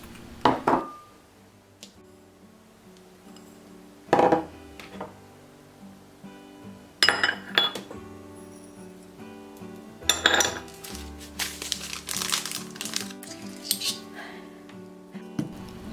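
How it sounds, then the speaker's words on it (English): Dry ingredients of flour, cornstarch and powdered sugar being stirred in a bowl, with utensils clinking and knocking against the bowl in scattered close bursts and lighter scraping between them. "In a bowl, I'm gonna mix flour, cornstarch, powdered sugar,"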